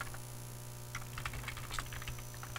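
Someone types an address on a computer keyboard, producing soft, fairly quiet key clicks in quick irregular bursts over a steady background hum.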